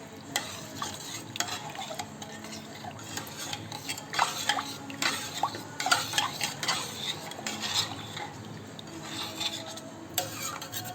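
Peanut chutney is stirred in a pot with a metal spoon, giving repeated scraping and clinking strokes in an uneven rhythm, close and fairly quiet, with no talk.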